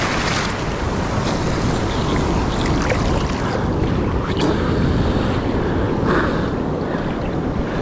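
Ocean surf and an incoming tide wash over a beach at a seaside home in Davao, Mindanao, Philippines: a dense, continuous close roar of breaking water and foam, loud and steady with no speech.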